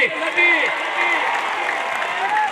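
Crowd applauding a wrestler at a kushti wrestling match, a scattered outdoor clapping under a loud announcer's voice.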